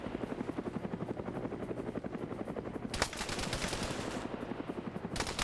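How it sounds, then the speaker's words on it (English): Sustained rapid bursts of GPMG machine-gun fire in a modern military shooter game, a steady rattling stream of shots with a louder, brighter burst joining midway, under constant engine-like rumble. "I hear a GPMG doing suppression."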